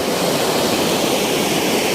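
A large river rushes past in a steady, dense roar of flowing water, loud and unbroken, with no voices over it.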